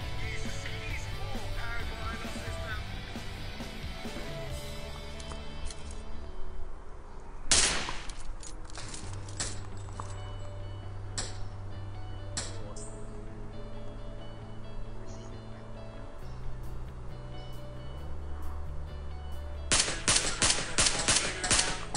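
Gunfire in the mobile battle-royale game PUBG Mobile comes as a sharp crack, then scattered single shots and rapid automatic bursts that end in a dense, loud volley over a droning in-game background.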